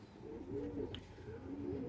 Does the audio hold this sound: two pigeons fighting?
yes